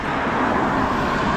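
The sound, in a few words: road traffic passing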